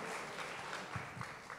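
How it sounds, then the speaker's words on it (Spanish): A church congregation at a Sunday service applauds, a faint, distant, continuous patter of many hands clapping with a few louder claps standing out near the middle. "Den un aplauso, démoselo al Señor."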